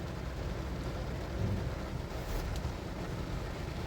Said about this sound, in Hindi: बारिश तो बहुत ही ज़्यादा शदीद हो रही है इस टाइम, बहुत तेज़ बारिश हो रही है।